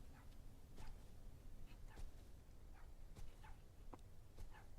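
A small dog barks in the distance in a scary itch.io video game, a series of faint, sharp yips repeating irregularly over a low ambient background.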